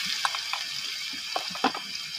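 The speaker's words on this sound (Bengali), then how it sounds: "1 মিনিট আমি মরিচ আর পেঁয়াজ ভেজে নিচ্ছি।" Green chilies and onions frying in a pan: a steady, close sizzle with a few light stirring clicks and scrapes over a couple of seconds.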